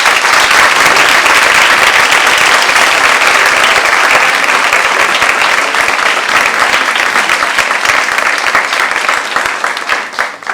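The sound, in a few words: audience applauding the guests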